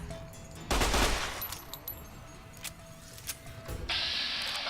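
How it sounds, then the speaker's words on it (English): The Mercenary's grenade rifle fires in a video game: one loud, booming launch blast, then a stretch of smaller scattered pops, clicks and rumbles of gunfire and game effects. "just take the Mercenaries grenade rifle from the courier stash and just start lobbing grenades down here"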